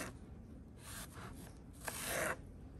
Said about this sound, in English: we're going to use our claw grip to make nice thin slices